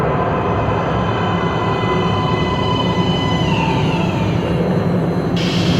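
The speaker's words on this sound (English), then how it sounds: "Please step away from the edge of the platform. Train coming in." A metro train rumbles loudly into a station platform in the video game Metro Last Light Redux, a steady heavy roar of wheels and carriages with faint squealing, close and continuous without talk.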